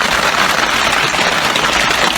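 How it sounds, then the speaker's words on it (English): Hard rain pouring down outdoors, a dense, even hiss of countless drops that stays loud and unbroken throughout. "it's certainly raining hard"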